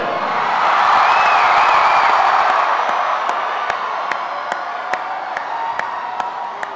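A large crowd cheers at a New Jersey political rally for Barack Obama and Governor Jon Corzine, giving a loud, sustained roar with whoops that eases slightly while scattered sharp claps continue.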